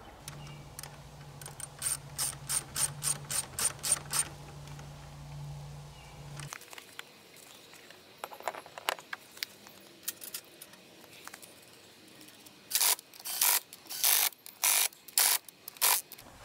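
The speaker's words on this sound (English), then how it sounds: "winch in the new cable" An ATV winch on a Can-Am Outlander 850 XMR pulls in new synthetic rope. A steady motor hum runs first under rapid rhythmic ratcheting clicks, then the hum stops and irregular mechanical clunks and bursts of clicking follow, close and fairly faint.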